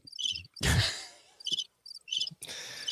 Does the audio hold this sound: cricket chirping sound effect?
yes